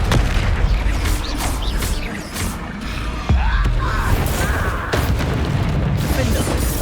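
Booming spell blasts from the Confringo blasting curse in Hogwarts Legacy, a couple of loud bursts over a dense, continuous game soundscape with battle noise throughout.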